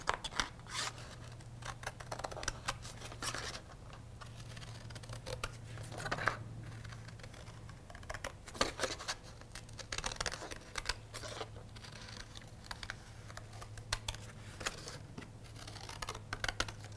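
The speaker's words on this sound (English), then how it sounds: "I'm just going to cut off the extra here and cut my second butterfly" Scissors cut a folded paper butterfly wing in a long series of close, crisp snips and rustles, irregular in pace, over a low steady hum, with no talk.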